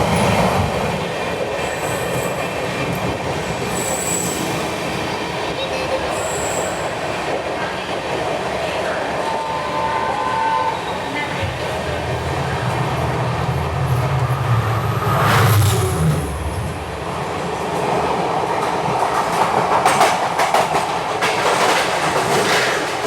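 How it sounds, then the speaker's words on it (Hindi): An empty Rajdhani Express rake is shunted, a steady rolling rumble with rhythmic clickety-clack of wheels and occasional squeals from the wheels, heard close and continuous for a long stretch. "राजधानी एक्सप्रेस का एम्प्टी रेक शंट हो रहा है"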